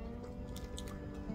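Someone chews a dish of sowthistle greens, with soft, moist chewing and a few crisp crunches close to the mouth, no talking.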